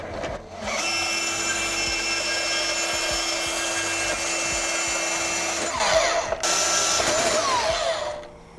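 A power tool cuts a metal Unistrut bracket for a Starlink mount in a Bronco. The steady loud whine and grinding last several seconds, then a brief pause, and a second short burst of cutting follows.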